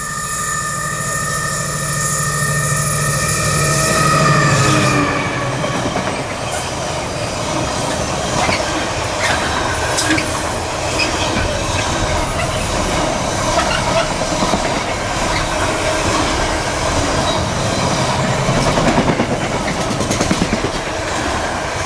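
Class 70 locomotive 70015 hauling an intermodal freight train from Leeds to Southampton, a loud diesel drone with a falling horn-like tone at the start, then steady rumbling wheels and clattering wagons passing close by.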